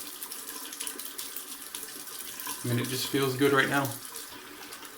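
Water running from a bathroom tap during a wet shave, a steady gush that swells midway and then stops, heard alongside someone talking.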